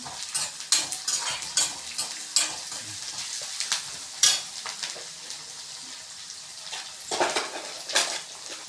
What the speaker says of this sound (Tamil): உளுத்தம் பருப்பு கடலைப்பருப்பு போட்டுக்கலாம். போட்டு நல்லா வதக்கிக்கலாம்